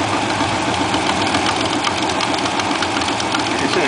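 A pulling tractor's engine runs steadily at a county fair tractor pull, a loud, dense mechanical roar with a rapid knocking texture that stays constant throughout without pause.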